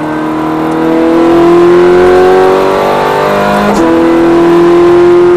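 A Ferrari F430 accelerating through a curve, its engine loud and close with a steady rising tone that drops abruptly near the end before it pulls on again.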